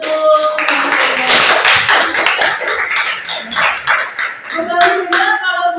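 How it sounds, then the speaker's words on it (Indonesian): A classroom group claps for a student after a teacher's prompt, the uneven, fairly close clapping swelling and thinning, with brief voices and some tapping mixed in near the end. "Tepuk tangan untuk"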